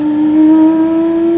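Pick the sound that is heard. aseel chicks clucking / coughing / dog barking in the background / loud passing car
loud passing car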